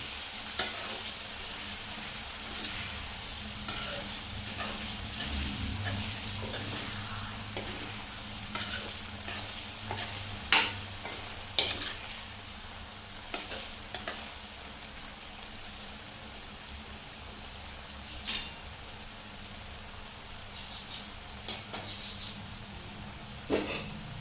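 Paneer bhurji with garam masala being stirred in a frying pan: a steady low sizzle runs throughout while a spatula scrapes and taps the pan in scattered, irregular clicks, close by and moderately loud, with no talking.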